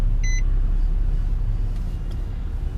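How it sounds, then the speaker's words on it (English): A 2017 Nissan Murano AWD Platinum idles with a steady, loud low rumble, and a short electronic beep chimes near the start. "push the start button, boom, cranks right up"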